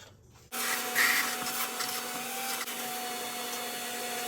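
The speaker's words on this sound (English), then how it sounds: "I'm going to vacuum that out real quick" A vacuum sucking oil out of the engine of an Oldsmobile Alero starts abruptly after a brief quiet moment, then holds a loud, steady whine with a faint tonal hum close by, continuing without pause and with no talk.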